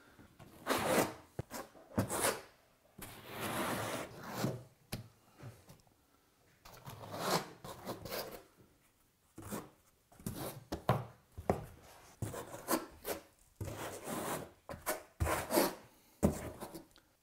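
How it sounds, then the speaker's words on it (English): A trowel scrapes and spreads thinset mortar across tile in repeated rhythmic strokes, each a soft gritty rasp separated by brief pauses, close and moderately quiet. "And then we're going to trowel it, and we're going to match the trowel up and down as that's how the tile has already been troweled."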